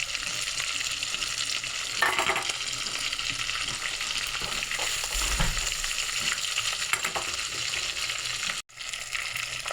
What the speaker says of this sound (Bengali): শুকনো লঙ্কাটা পাশে দিয়ে দিলাম, একসঙ্গে ভাজা হয়ে যাবে।